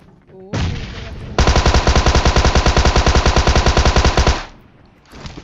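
In a battle royale shooter, an automatic rifle fires one loud, close sustained burst of rapid shots lasting about three seconds, preceded by a shorter blast and followed by a fading tail.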